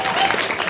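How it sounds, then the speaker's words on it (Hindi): An audience at an all-India Hindi poetry gathering gives a short, thin burst of clapping that fades within a moment. "तालियां कमजोर है आपकी"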